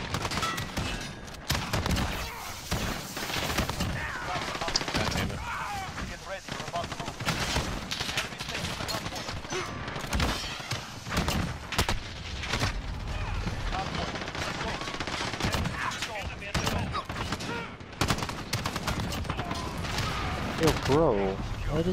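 Rapid gunfire from Call of Duty: Modern Warfare (2019) online multiplayer, dense bursts of shots and shotgun blasts crackling almost nonstop, with a player talking over the action.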